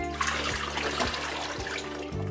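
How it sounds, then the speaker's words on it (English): Film-developing chemical pours steadily into its container, a continuous splashing wash of sound with no pauses, close by and fairly loud. "we pour it back into its original container"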